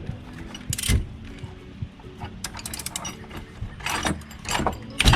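Ratchet wrench clicking on tight bolts in an Isuzu D-Max 1.9 Blue Power engine bay, with bursts of rapid ratcheting, metallic clanks, and brief pauses between turns.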